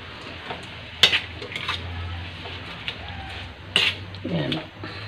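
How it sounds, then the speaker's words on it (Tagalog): Vegetables with bean sprouts being stirred in a pan clatter with utensil knocks and scrapes over a soft sizzle, while a voice talks now and then in the background. "Haluin natin."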